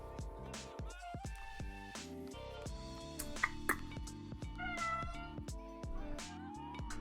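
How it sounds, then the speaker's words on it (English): Cats in Minecraft let out several short, soft meows scattered over gentle background music with piano-like notes and a steady bass line. "I want more cats because I think there would be a whole bunch of stray cats"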